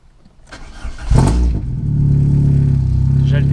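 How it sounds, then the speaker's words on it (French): Car engine cranking and catching after a spark plug change, a brief starter whir rising into a loud close start, then settling into a steady, rough idle. "On va la démarrer."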